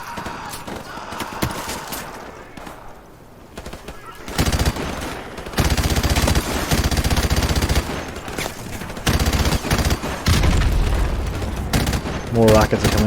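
Rapid gunfire and booming rocket explosions in Call of Duty Modern Warfare Remastered, a hillside firefight, with quieter scattered shots giving way to dense loud bursts of automatic fire and heavy blasts.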